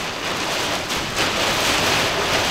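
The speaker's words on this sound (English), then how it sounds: "Oh yeah, we're getting some driving rain for sure." Driving monsoon rain hits a converted school bus skoolie in a steady, loud, hissing wash that swells slightly partway through, with no talk.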